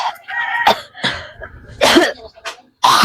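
A woman coughs several times in rough bursts, close to the microphone, separated by short pauses, with a little speech between the coughs.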